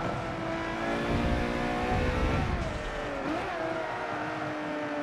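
A race car engine in the video game Forza Motorsport 7 revving hard and accelerating, loud and close, with the pitch climbing and dipping through gear shifts.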